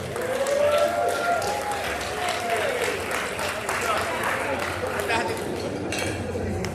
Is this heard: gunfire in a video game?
no